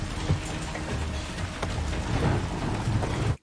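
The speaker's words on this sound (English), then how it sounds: "We don't get thunder that often in Seattle, but sure, you go on with your ambiance." Heavy rain and rumbling thunder in a TV show's Seattle scene, a dense continuous downpour with low booming rolls underneath, loud and enveloping, cutting off abruptly at the end.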